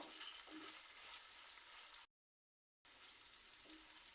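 Ginger and garlic paste frying in a pan for a chicken dish, giving a steady, fairly quiet sizzle that cuts out briefly midway and then resumes.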